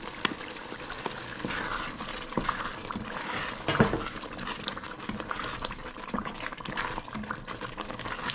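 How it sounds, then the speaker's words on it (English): Beef broth poured into a cooking pot, a continuous liquid gush and patter with bubbling hiss that runs for several seconds, loud and close, with no talk. "I'm gonna add the beef broth."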